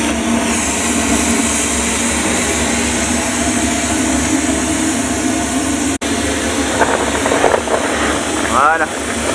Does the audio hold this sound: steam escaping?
yes